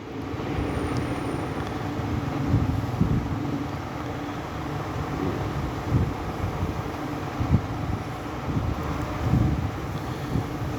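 Steady cold wind rushing past the microphone on a ride to Tagaytay, a low continuous roar with occasional gusts and buffeting throughout.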